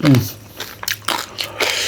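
Crunchy bites of a spicy Thai pounded rice-noodle salad with crisp pork, loud chewing and crunching close to the mic in short bursts, with some talk around it.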